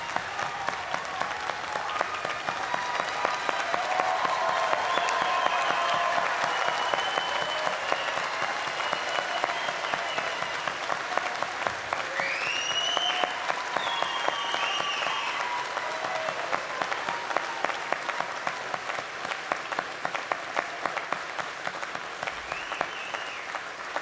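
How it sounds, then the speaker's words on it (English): Sustained applause from a large auditorium audience giving a standing ovation to new University of Alberta graduates at a spring convocation ceremony, steady dense clapping throughout with a few whistles and cheers rising above it. "I think this moment merits a standing ovation"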